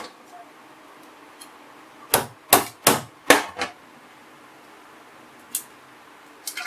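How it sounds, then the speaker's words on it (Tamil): Crab legs are crushed for crab masala, four sharp, close cracking knocks in quick succession, followed after a pause by a couple of lighter taps against a quiet background. "அந்த மாதிரி காலெல்லாம் நசுக்கி விட்டுக்காங்க"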